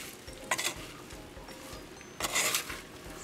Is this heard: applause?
no